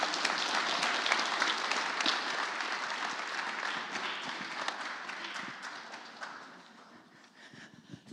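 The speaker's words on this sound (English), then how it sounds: "Give Casey a round of applause." Audience applause at a startup investment summit, a broad wash of clapping from a large crowd that holds steady, then thins and fades out toward the end.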